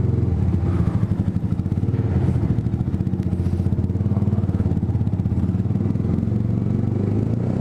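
A Yamaha R125 motorcycle fitted with a Scorpion exhaust revs loudly and steadily up close, with a deep, throbbing engine note and rattling pulses that fill the whole stretch without pause.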